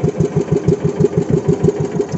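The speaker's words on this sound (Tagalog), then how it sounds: "Gusto niya magbunlot ng makina." A boat engine on a handline fishing outing runs after being pull-started, giving a steady rhythmic chugging pulse of roughly four beats a second, close and fairly loud throughout, with no talking.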